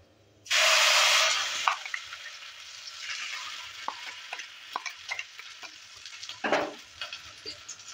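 Cumin seeds and a freshly added spice paste for bitter gourd (karela) sabji give a loud burst of frying sizzle, then the paste is stirred with scattered scraping clicks and softer, ongoing sizzling close by, with no talking.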